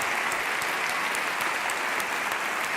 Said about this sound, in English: Big round of applause for Freya, Mark, and Sarah.